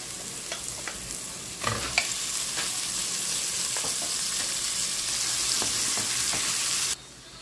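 Ground meat sizzles and crackles in a hot pan for spaghetti sauce, a steady loud fry with a few scraping stirs, cutting off abruptly near the end.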